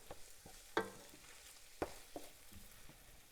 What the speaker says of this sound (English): you want to cook your tomato paste down